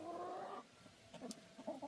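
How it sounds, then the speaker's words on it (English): Homestead chickens feeding on a rainy day give soft, low clucks and murmuring calls, several birds close by, with a brief louder burst at the start and no talking. "There are some of the chickens."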